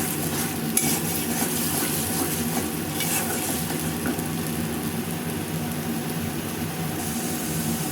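Tomato sauce and spices sautéing in a pan for a shrimp dish, a constant loud sizzle layered with repeated spoon scrapes and light metallic clinks against the pan, with no voices.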